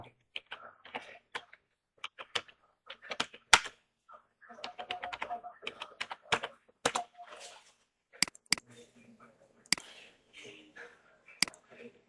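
Keys on a computer keyboard are tapped to type a folder name, a close, irregular run of sharp clicks in quick clusters with short pauses.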